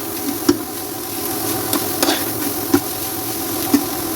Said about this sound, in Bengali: ভালোভাবে নাড়াচাড়া করে গাজরটাকে ভেজে নেব